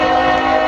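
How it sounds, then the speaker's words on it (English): Norfolk Southern northbound grain train sounding its horn in Marion, Ohio: a loud, sustained multi-tone blast lasting the whole short moment, close by and without voices. "There it is, the grain train."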